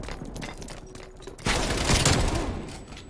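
Shotgun blasts in the Call of Duty Black Ops Cold War video game, a loud burst of gunfire after a quieter stretch of game noise, then a fading rumble.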